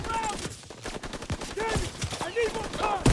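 Rapid rifle gunfire in the Call of Duty WWII video game, including an M1 Garand, a dense volley of sharp shots at moderate level with short voiced exclamations mixed in.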